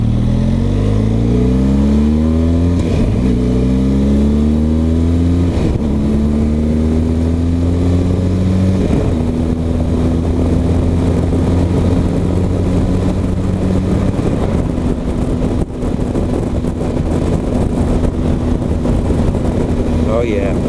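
A 2020 Benelli TRK 502X motorcycle pulls away on a main road, its engine close and loud, climbing in pitch through several rising surges with brief dips at each gear change, then settling into a steady drone over constant wind rush.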